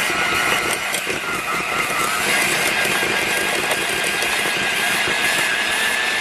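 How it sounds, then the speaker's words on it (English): An electric mixer whisks an egg with vanilla extract for pumpkin cookie dough, giving a steady, loud, continuous motor whir with a constant high hum and no pauses. "And then we're going to whisk this together."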